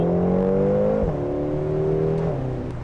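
A Volkswagen Golf R accelerates hard from a first-gear start, its engine note climbing, dipping briefly at a shift, then rising again, heard close from inside the car with no talking.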